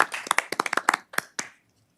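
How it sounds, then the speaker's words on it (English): A short burst of clapping at a city council meeting in Victoria, a few people applauding in quick, uneven claps that trail off after about a second and a half. "give them a round of applause."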